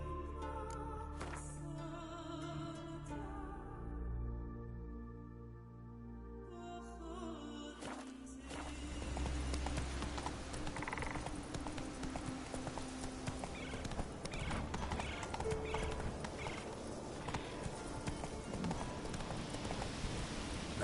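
Roach, the horse in The Witcher 3, breaking into a gallop: rapid rhythmic hoofbeats with a whinny, following a quieter stretch with game music, the hooves loud and driving toward the end.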